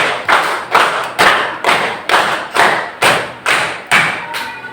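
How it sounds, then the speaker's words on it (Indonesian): Students in a classroom ice-breaker game clap in unison, about nine firm group claps in a steady quick rhythm, loud and near, with no voices over them. "tepuk 2-3 kali"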